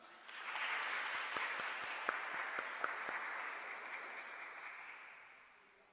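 Church congregation at a feast-day Mass applauding, a broad, steady roll of clapping from many hands that swells quickly, holds with a few sharp individual claps standing out, then fades away.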